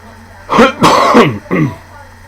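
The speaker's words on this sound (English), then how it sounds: "just getting over this cough" A few rough coughs and throat clears in quick succession, close and loud, three bursts within a couple of seconds.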